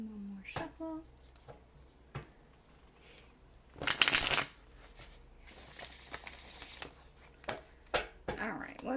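Tarot cards from the Tarot of a Moon Garden deck shuffled in a quick riffle-like burst near the middle, with softer handling rustles before and after and a voice speaking in between.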